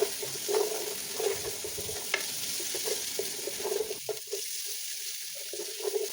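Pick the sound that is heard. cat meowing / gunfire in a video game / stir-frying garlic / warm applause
stir-frying garlic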